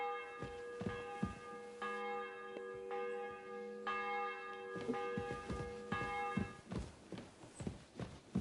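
Church bell tolling repeatedly in the medieval game Kingdom Come 2, steady ringing strokes about once a second with hoofbeat-like thuds and footsteps joining toward the end.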